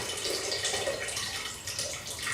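Water from a batch of gherkins draining through a colander in a home kitchen, a steady close splashing trickle with light dripping, continuous and fairly quiet for a couple of seconds.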